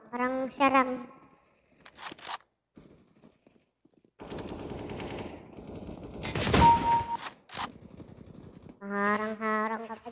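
Automatic gunfire bursts from a Counter-Strike: Global Offensive match, a loud burst mid-clip among scattered shots and footsteps, with a player talking before and after.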